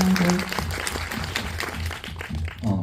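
An audience at an indie film talk event applauds in a short burst of mixed clapping, loud at first, dipping briefly and then rising again, with some low murmuring underneath.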